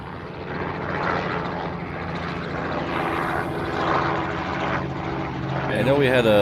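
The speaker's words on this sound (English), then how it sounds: "There's a 717 coming in on the crossing runway" A Boeing 717 airliner lands on a crossing runway at a Hawaii airport, its engine roar a steady, fairly distant drone that swells slightly near the end, with people talking over it throughout.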